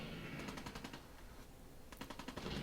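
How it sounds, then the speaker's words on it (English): Rapid machine-gun fire rattles in bursts in Fallout 4, steady volleys at mid distance with a brief lull before more shots crackle in. "someone's shooting at me"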